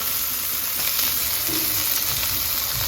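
Tengra fish sizzle steadily while frying in a pan, a loud continuous hiss close by with faint crackles and no breaks.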